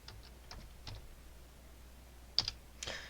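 A trim command typed on a computer keyboard while working in AutoCAD: a handful of soft, separate key clicks, then two louder taps near the end, quiet and close with no talking.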